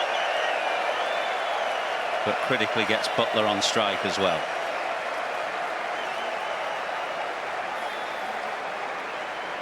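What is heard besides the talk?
cricket crowd applauding England's team 100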